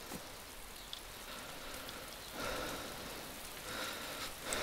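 Rain falls steadily in the survival video game DayZ, a quiet continuous patter with faint drops and brief swells in intensity.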